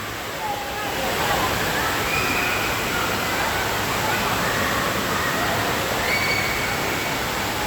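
At an indoor water park resort, rushing water makes a steady, dense roar throughout, with faint distant voices and calls mixed into the wash.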